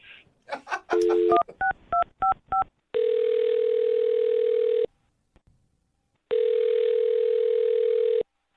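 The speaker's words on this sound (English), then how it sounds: "I'm going to dial his phone number right now" A short burst of keypad dialing beeps, a quick run of touch tones, then two long electronic ring tones separated by a pause of silence.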